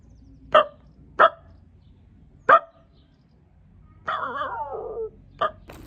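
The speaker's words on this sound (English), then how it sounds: "there were dogs barking till 4:30 in the morning" A dog barks in sharp, spaced single woofs, then lets out a drawn-out whining howl before one more bark; fairly close and otherwise quiet.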